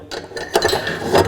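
Drum handling trolley with rotation being set under a drum, giving close metallic rattling and clunking with a short ratchety scrape, brief and heard alone.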